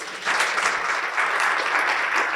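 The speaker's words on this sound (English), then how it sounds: "let's give him a round of applause, too" An audience at an airport emergency management talk breaks into brief applause, a dense, even wash of clapping hands that holds steady for a couple of seconds.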